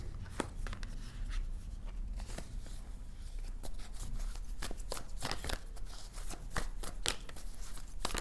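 Tarot cards being shuffled by hand in a steady run of riffles and dense papery flicks and slaps, close and continuous throughout, with no talking.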